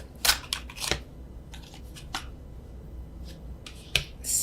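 Playing cards are overhand shuffled by hand, tarot cards, in a few quick, crisp riffling bursts, separated by short pauses and soft handling noise.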